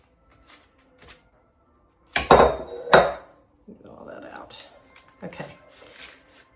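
A metal spoon scrapes and clatters against an 8x8 baking dish while sticky peanut butter and jelly layer mixture is spooned in, giving two sharp knocks and softer scraping under intermittent talk.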